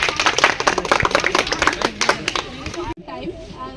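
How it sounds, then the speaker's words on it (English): A short burst of audience clapping at a stage drama, dense and lively, then it cuts off abruptly and a voice continues speaking. "Give them a big round of applause"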